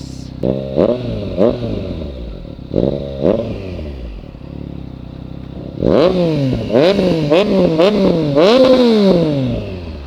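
Big motorcycles such as a Yamaha MT-09 and Kawasaki Ninja 650 revved on a quiet Tagaytay road at night, a series of loud rising and falling throttle blips, spaced at first, then quicker overlapping revs, close by.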